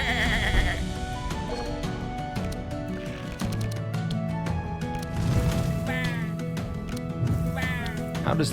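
Sheep bleat repeatedly over busy music and effects in the video game Across the Obelisk, the wavering cries rising now and then above a dense, loud mix.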